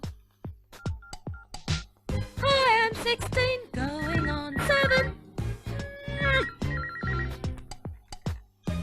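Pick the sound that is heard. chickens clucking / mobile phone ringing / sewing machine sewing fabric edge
mobile phone ringing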